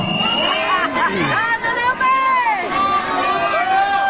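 A large political rally crowd shouts and cheers together, a dense roar of many voices rising and falling without pause.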